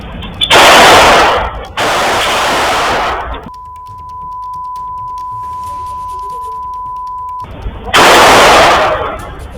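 Gunshots fired into the air outside a club in Seemapuri, Delhi: two loud, broadband bursts of gunfire, a steady tone in between, then another loud burst near the end.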